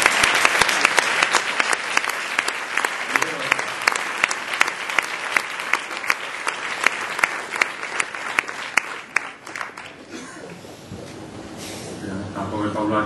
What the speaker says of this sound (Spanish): Un fuerte aplauso para el premio, por favor.